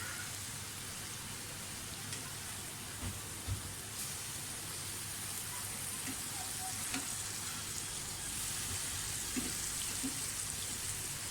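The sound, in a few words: chicken breast pan-roasting in a pan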